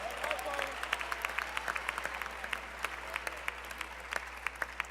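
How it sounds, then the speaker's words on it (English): An audience at the Young, Gifted and Black Braintrust session of ALC '17 gives a sustained round of applause, with dense, steady clapping filling the room for several seconds. "Give her a big round of applause."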